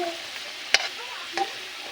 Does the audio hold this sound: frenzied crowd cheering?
no